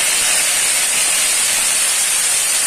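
Dry red chillies and bay leaves hit hot oil for a Bengali fish and potol dorma, giving a loud, steady, hissing sizzle that fills the whole moment without a break.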